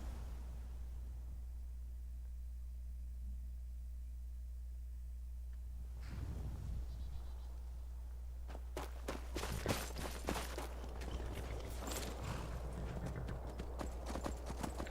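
In Skyrim, a steady low hum gives way to horse hooves clip-clopping at a walking pace, close and fairly clear, with no voices.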